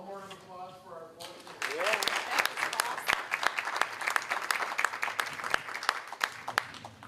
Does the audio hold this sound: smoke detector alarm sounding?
no